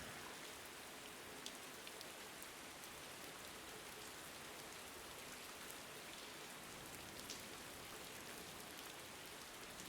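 Steady rain falling, a continuous soft hiss with scattered drop ticks, even and unbroken throughout, with no voices.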